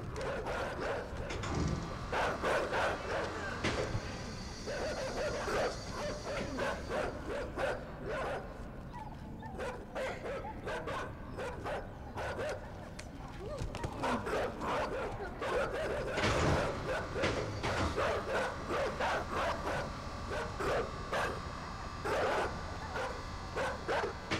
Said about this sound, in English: Oh, you dogs can't do shit